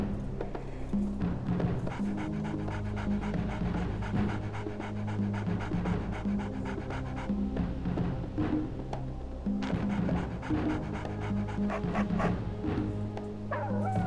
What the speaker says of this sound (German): Der Hund ist frei. Jetzt geht's ab.